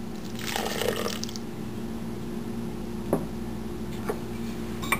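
Water is poured into a blender jar holding roasted coconut and spices, being ground into a paste for South Indian chicken curry with coconut milk. A short splashing pour comes near the start, followed by quiet with a few faint ticks.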